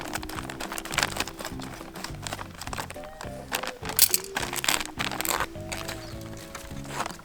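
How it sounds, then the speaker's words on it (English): Potting soil is scooped and pressed into a small seed-starting container, producing gritty crinkling and soft crunching scrapes in a quick irregular rhythm, close up, for planting tomato seeds. "Time to put some dirt in."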